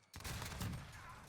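In Warzone, a Gallo SA12 semi-auto shotgun fires a quick burst of heavy booming blasts that merge into one loud, sustained roar of gunfire.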